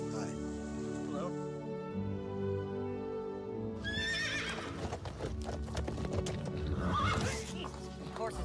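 A horse in the film Seabiscuit gives loud whinnies, with hooves clip-clopping beneath, over a sustained orchestral music bed and light rain-like patter, the neighs close and prominent.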